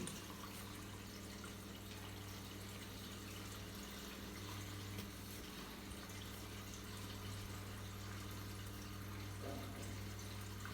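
An IFB 8 kg front load washing machine fills with water, a faint steady trickle and flow over a low continuous mechanical hum, with no talking.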